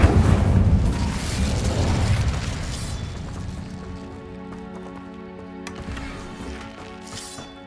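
An Incendio fire spell cast in the Hogwarts Legacy video game, a loud burst of whooshing fiery noise that fades over several seconds into a quieter tonal game soundscape with a brief swell later on.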